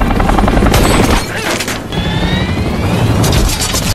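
Loud, continuous helicopter rotor roar mixed with rattling bursts of gunfire and crashing impacts as the helicopter is shot down, ending abruptly.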